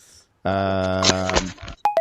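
Telephone dialing tones sound loud and close: a long harmonic tone followed by a couple of short sharp beeps, with no speech.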